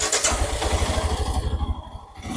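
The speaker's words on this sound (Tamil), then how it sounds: "So I will start my bike." A Royal Enfield Himalayan 411cc single-cylinder motorcycle engine starts up and settles into a steady, close low-pitched thump that slightly dips near the end.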